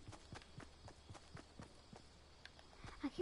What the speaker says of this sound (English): I keep on thinking that I hear footsteps.